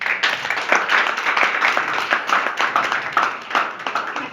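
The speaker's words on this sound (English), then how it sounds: "let's give her a round of applause" Brisk audience applause with distinct individual claps rises and falls in a steady, lively patter, heard up close with no talking over it.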